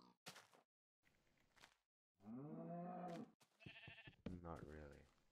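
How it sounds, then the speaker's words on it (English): Cow mooing in Minecraft Alpha 1.1.2, a loud, drawn-out harmonic low call lasting about a second, close and clear, set between short bursts of nearby speech. "Oh, I forgot how loud the cows are in this version."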